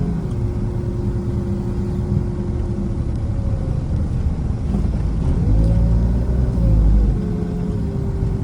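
A car passes close by on a road, its low rumble swelling to a peak near the end over steady wind buffeting on the microphone.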